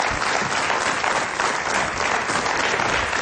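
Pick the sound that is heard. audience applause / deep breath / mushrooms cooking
audience applause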